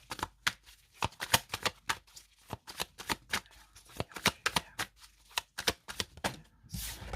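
Tarot cards being shuffled for a three-card reading, a steady run of crisp close riffles and snaps, each sharp and short, heard alone without voices.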